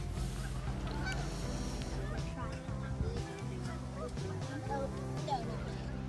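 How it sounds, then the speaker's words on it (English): A flock of Canada and snow geese honks continuously at a pond, many overlapping calls near and far forming a busy chorus, with faint talking underneath. "The most common are the Canada goose and the snow goose."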